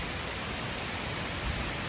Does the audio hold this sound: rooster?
no